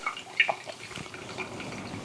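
Pour-over coffee drips slowly through a conical dripper, with a few faint, sparse drops and a soft trickle of water heard up close in a quiet room.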